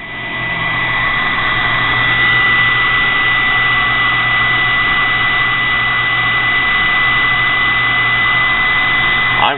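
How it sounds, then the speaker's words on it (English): A sewing machine motor repurposed to drive a mini grinder runs flat out, a loud, steady high-pitched whine with a constant tone and no pauses, close up and alone. "The sewing machine was never designed to run the motor full blast."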